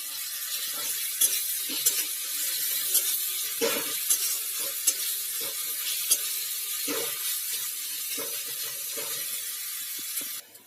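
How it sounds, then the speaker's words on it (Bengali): Half-fried onion with ginger-garlic paste sizzles steadily in a pan, close and continuous, with repeated scraping strokes of stirring punctuating the hiss and no talk. "পেঁয়াজটা ভাজা হয়েছে অর্ধেক, এবার এর মধ্যে আদা রসুন বাটাটাও দিয়ে দিলাম, দিয়ে এটাকে আর একটু ভেজে নেবো"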